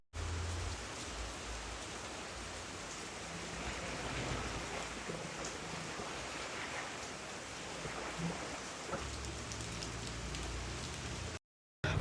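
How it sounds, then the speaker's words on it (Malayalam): Heavy rain pours steadily onto a house yard, a dense, continuous hiss of drops hitting the ground that holds at an even loudness throughout, with no voices. "നല്ല മഴ വെച്ചാൽ നല്ല മഴയായിരുന്നു, അറിഞ്ഞങ്ങ് തുള്ളി പെയ്യുകയായിരുന്നു കേട്ടോ മഴ"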